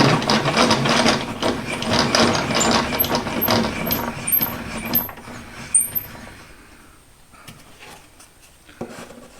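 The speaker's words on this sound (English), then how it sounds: "lower our blade all the way back down" A table saw blade is cranked all the way down, giving a loud stretch of ratcheting, grinding mechanical noise that fades into near quiet with a few faint clicks at the end.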